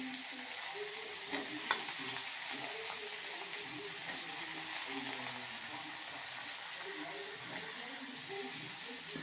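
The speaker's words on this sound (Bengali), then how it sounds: "তো দেবো আলু, আলু আর পটলগুলোকে দিয়ে দেওয়া হবে, দিয়ে সুন্দর করে ভেজে নেওয়া হবে।" Potatoes and pointed gourd fry in a pan for an omelette curry, giving a steady, close sizzle with occasional stirring scrapes and a few sharper clicks of a utensil against the pan.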